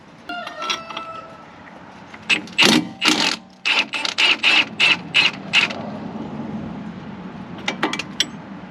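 A ratchet wrench loosens a 14mm strut bolt and 15mm nut on a Chevy/GMC truck with Magnaride, with a few light metal clinks, then bursts of quick, loud, close ratcheting clicks and a final short run.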